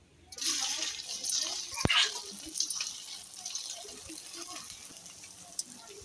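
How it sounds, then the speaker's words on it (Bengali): Flattened rice sweets fry in hot oil in a wok with a steady, close bubbling sizzle that runs throughout the clip, broken by one sharp clink near the start. "এবার আমি একে একে মিষ্টিগুলো ভেজে নেব।"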